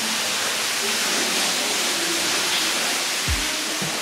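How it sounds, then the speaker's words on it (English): Steady, broadband rushing of a waterfall inside Tuckaleechee Caverns fills the space, an even roar echoing in the enclosed cave, with a couple of low thumps near the end. "How'd you like that waterfall in this massive cave system that we're in?"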